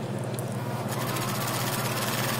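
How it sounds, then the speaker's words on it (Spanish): A sewing machine stitches elastic into the waistband of shorts or trousers, running as a steady continuous motor whir with a rapid needle rhythm throughout, fairly close and alone with no talking. "cosemos todo alrededor"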